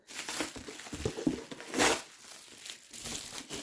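Plastic bag packaging crinkles and rustles during an unboxing, a close, continuous crackling with louder handling bursts and no talk.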